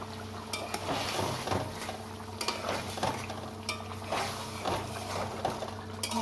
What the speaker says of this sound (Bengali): কর্নফ্লাওয়ারটা গুলে দেবো না এমনি ডাইরেক্ট দিয়ে দিচ্ছি তো নাড়া দিয়ে নিই এবার জমে না যায়